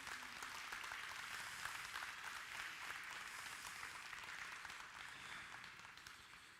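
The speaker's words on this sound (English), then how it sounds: "these kids really deserve a big round of applause" Steady crowd applause for young exhibitors at a beef steer show, a dense, even wash of clapping that holds at a constant level throughout and fades only slightly near the end.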